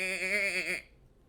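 A single short, wavering goat bleat used as a tabletop game sound effect for a large shaggy billy goat with big horns, close and clear, ending abruptly.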